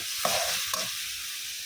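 Dried fish frying in oil in a home kitchen pan: a steady close sizzle, broken by two short scraping stirs, with no talking.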